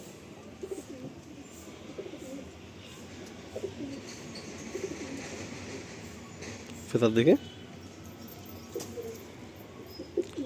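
A Madrasi pigeon coos close by, one short rolling coo standing out partway through, while someone talks over a quiet background.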